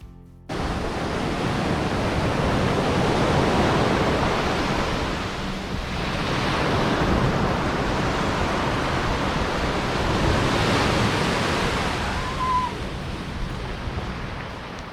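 Sea waves on a wide sandy beach in Alanya, Turkey: a loud, continuous rushing wash with slow swells and some wind noise, and no talk.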